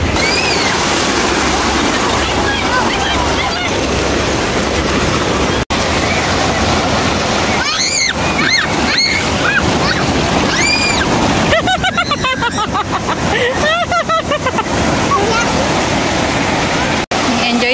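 Ocean waves at Laguna Beach wash in a loud, continuous rushing surf with splashes. Voices and shouts break through the roar now and then.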